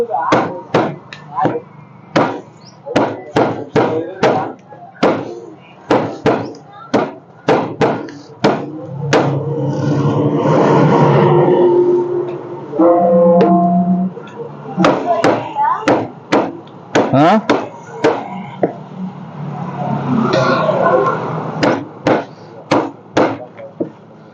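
Meat for biryani is chopped with a cleaver on a block in a busy shop, a long series of sharp, rhythmic whacks. The chopping pauses for a stretch of talk, then carries on steadily.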